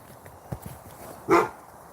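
A dog gives a single short bark at a rabbit, sharp and close, after a few soft footstep-like taps in an otherwise quiet outdoor setting.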